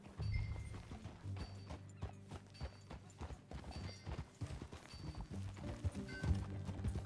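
Horse hooves clip-clop steadily at a trot in Red Dead Redemption 2, under a low rumbling game soundtrack, with occasional creaks of tack.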